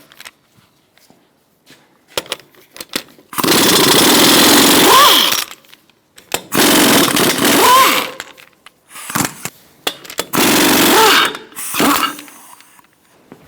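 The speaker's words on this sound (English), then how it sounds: "Remove your lug nuts using a 21mm socket." A power impact tool zips off the lug nuts of a 2002-2006 Toyota Camry 2.4L wheel with a 21mm socket. It sounds as loud, close buzzing whirs in several bursts of one to two seconds, separated by silence and short clicks.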